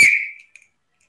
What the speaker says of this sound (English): So please start once I blow the whistle